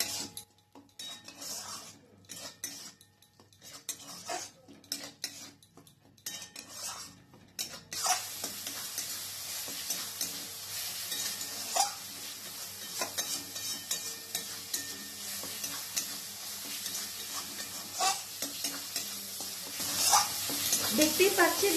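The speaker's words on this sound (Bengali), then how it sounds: "এরপর 3 থেকে 4 মিনিটের মতো মশলাটা কষিয়ে নিতে হবে" Spice paste with ginger bata being stir-fried in a pan for chana paneer: repeated scraping and clinking of a spatula against the pan over a growing, continuous sizzle that turns loud and dense about halfway through, close up and without voices.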